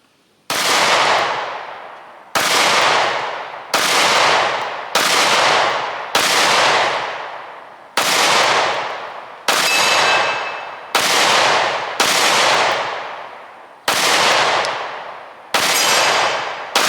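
Smith & Wesson pistol fired repeatedly at a range, a dozen sharp, loud reports in an irregular rhythm, each with a bright metallic crack and a short ringing decay, no talking.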